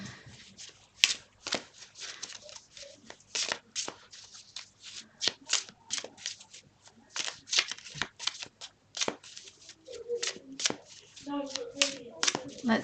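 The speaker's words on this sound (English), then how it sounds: "Let's start shuffling and pick my cards" Tarot cards shuffled by hand in quick riffling bursts and taps, close and crisp, with soft shuffling rustle between and faint murmurs toward the end.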